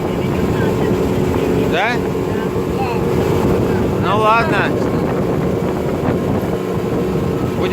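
A motorboat engine runs steadily beneath wind buffeting on open water, while people talk and call out briefly over the continuous drone; the motor may be faulty.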